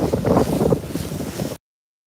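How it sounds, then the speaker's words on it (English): Wind buffets the microphone during a ride along the Lake Superior shoreline in a low, rumbling roar with gusty swells, then cuts off abruptly into silence. "Unless you want to hear the wind."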